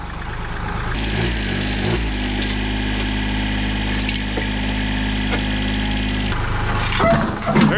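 A tractor engine idles steadily for several seconds while scrap engines are lifted and moved, a low constant drone near and loud, with small shifts in load and brief clanks at the end.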